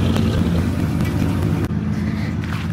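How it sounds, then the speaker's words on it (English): A truck engine runs steadily while pulling a VW Mk3 car forward onto a driveway, a constant close rumbling drone with a brief dip partway through. "use the truck to just pull it forward a little, because I want to get it onto the driveway here"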